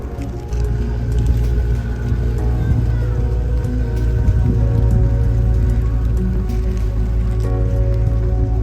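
Steady rain falls on the streets of Rothenburg ob der Tauber, a continuous dense patter with splashy drips and a low wet hiss that holds evenly from start to finish, with no voices.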